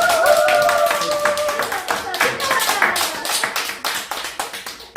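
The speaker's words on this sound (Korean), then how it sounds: "이럴 때 박수 한번 주세요" Audience at a candidate's press conference at a city hall claps in a loud burst that gradually thins into scattered, distinct individual claps, with a voice briefly over the start.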